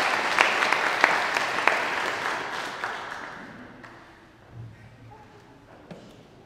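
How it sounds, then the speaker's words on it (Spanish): A church congregation at a Saturday vigil Mass bursts into loud applause that crackles densely at first, then gradually thins and fades away over several seconds, with a few soft thumps near the end. "Un fuerte aplauso."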